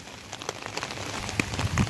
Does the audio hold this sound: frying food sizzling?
no